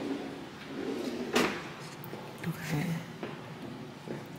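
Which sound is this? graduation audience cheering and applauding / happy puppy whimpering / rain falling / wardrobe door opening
wardrobe door opening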